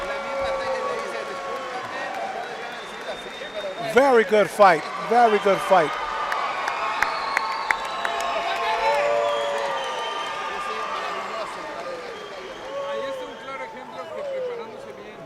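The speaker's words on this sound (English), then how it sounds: "Listen to the reaction of this crowd." A boxing crowd cheers and roars after a women's title fight goes the distance, with bursts of loud shouting over a sustained arena din while a commentator talks over it.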